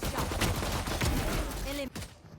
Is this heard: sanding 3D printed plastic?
no